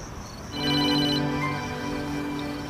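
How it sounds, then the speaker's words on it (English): A cell phone rings with a steady tonal ringtone, starting after a brief pause, fairly loud and close, with no talking. "he heard Samantha's cell phone ringing"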